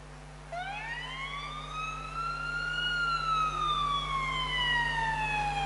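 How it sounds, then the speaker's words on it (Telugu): A fire engine siren rises in a long upward wail, then holds and slowly falls, loud and steady over a low background rumble, with no talking. "ఒక ఫైర్ ఇంజన్ సౌండ్ అనమాట."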